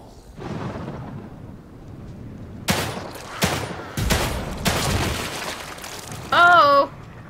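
Gunfire in the horror game The Evil Within 2, a handful of loud, sharp shots spaced a second or so apart with a booming tail after each, followed by a brief tonal game sound at the end.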